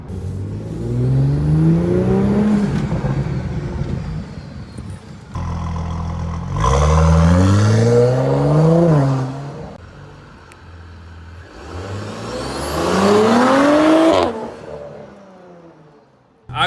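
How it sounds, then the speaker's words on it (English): An Audi S4 with a catless downpipe exhaust drives and revs through repeated acceleration runs, the engine note climbing and dropping loudly in three long pulls with brief lifts and gear changes between them. "I really do enjoy the sound this car makes just with the Catless downpipe."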